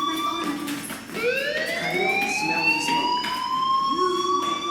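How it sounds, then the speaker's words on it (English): A school fire alarm sounds in the game Life is Strange, a continuous electronic siren with harmonic tones that rise and then hold steady throughout, loud and alone with no talking. "Hey, do you hear that fire alarm?"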